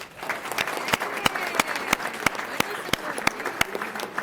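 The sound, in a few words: applause for retirees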